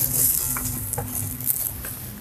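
Cluster beans dry-roasting without oil in a kadhai, stirred with a spoon: soft continuous sizzle and hiss with scraping stir strokes and light metallic scrapes against the pan.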